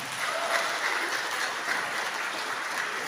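An audience at a religious gathering claps steadily, a dense, even wash of hands that holds at moderate loudness for the whole stretch, fairly distant.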